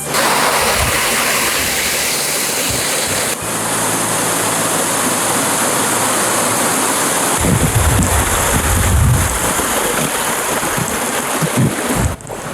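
A creek flows over rocks in steady, broadband rushing water noise that fills the clip, with a louder, closer burst of splashing and churning partway through.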